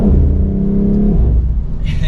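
A 2024 BMW X3 M Competition engine drops a few gears while rounding a right-hand turn: a loud, close rumbling drone whose pitch shifts partway through, with a brief airy hiss near the end.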